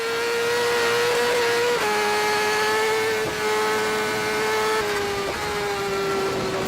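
Onboard a racing motorbike at full throttle beyond 300 km/h, the engine screams at a high, sustained pitch with brief dips at gear shifts, loud and continuous throughout.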